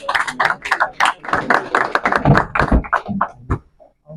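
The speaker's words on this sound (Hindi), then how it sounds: "ताली बजा दीजिए।" Applause for a head constable at a police retirement gathering, a dense burst of many hands clapping close and loud, then thinning and fading out near the end.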